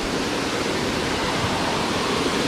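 A waterfall roars in a steady, dense broadband rush with no pauses, loud and close, on a hike in Savage Gulf, Tennessee, along Big Creek Gulf.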